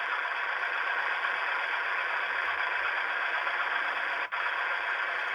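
A Dapol Class 73 model locomotive's sound unit idles with a steady, even mechanical drone, close and unchanging apart from one brief dropout near the end.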